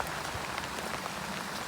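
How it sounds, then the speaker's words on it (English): Heavy rain falls outside a fishing bivvy, a dense, even patter of drops drumming on the canvas and ground, continuous and fairly soft, with no talking. "It's raining cats and dogs."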